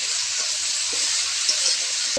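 Cut potatoes seasoned with salt and a pinch of sugar fry in a pan for a pumpkin-stem and eggplant chorchori, giving a steady, close sizzling hiss with faint stirring clicks and no voices.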